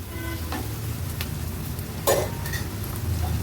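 Green chili and ginger garlic paste fry in a pan, a constant close sizzle with occasional stirring scrapes and one louder clatter near the end, no voices.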